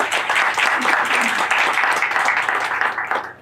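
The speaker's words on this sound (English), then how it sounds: "let's pause and applaud each of you just for being here" Sustained audience applause during an event honoring Black history, dense and fairly loud clapping filling the room without pause, tapering slightly at the end.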